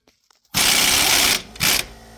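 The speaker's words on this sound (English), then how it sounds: "Then I'll take the torque gun" A torque gun tightens a bolt on a 2006 Subaru Outback rear trailing arm, giving one long loud whirring burst and then a second shorter one.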